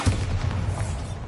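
Bombarda spell explosion in a Harry Potter video game: a short, deep booming blast with a rumbling tail, close and fairly loud, lasting about a second.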